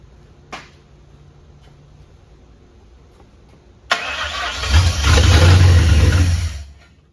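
A 1959 Ford wagon engine cranks after starting fluid is sprayed in, then catches and fires with a loud rising roar that runs for a few seconds before dying away. A faint click comes earlier in the quiet.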